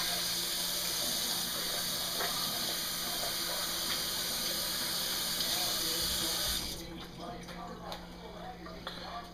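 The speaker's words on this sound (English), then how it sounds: "Wash the hands up." A kitchen sink tap runs in a strong, steady stream while hands are washed, then the flow cuts off and quieter handling noises follow; a voice speaks faintly underneath.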